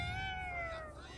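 A cat in the Ghostwire Tokyo video game gives one short, clear, fairly quiet meow with a slightly falling pitch, heard alone.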